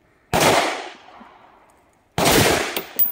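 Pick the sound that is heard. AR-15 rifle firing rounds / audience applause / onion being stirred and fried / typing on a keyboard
AR-15 rifle firing rounds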